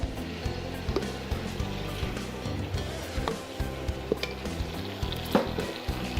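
A roux of 75 g melted butter and 75 g flour being stirred in a pan gives a soft, steady sizzle with close scraping and stirring strokes. The sound is moderate in level and continuous.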